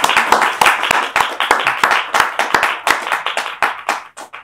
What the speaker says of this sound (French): Ah, on applaudit avant.